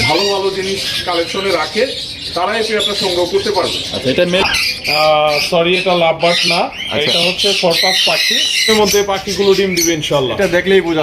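Red-eyed lutino Fischer's lovebirds at a breeding setup give loud, harsh squawks that come repeatedly and overlap throughout, mixed with people talking nearby.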